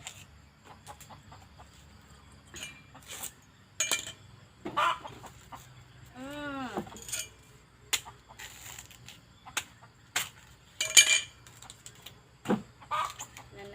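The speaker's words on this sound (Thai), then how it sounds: "นี่ไก่ตัวเดียว" A single chicken clucks now and then on a rural Thai homestead during the dry season, amid scattered clicks, knocks and rustling, with one clear rising-falling squawk standing out near the middle.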